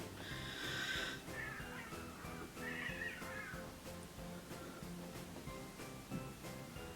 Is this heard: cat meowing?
yes